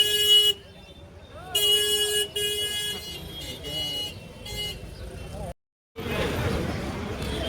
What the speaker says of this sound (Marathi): इकडे बघा ट्रॅफिक जाम.